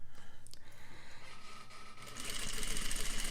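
A sewing machine runs steadily, beginning with a back stitch on a patch pocket, giving a fast even mechanical whir with rapid pulsing that picks up speed and gets louder toward the end, with no voices.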